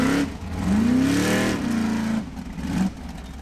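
An Icelandic Formula Offroad car called the Animal, driven in Egilsstadir, revs its engine hard on the track, rising and falling in pitch over a few seconds with a steady loud roar.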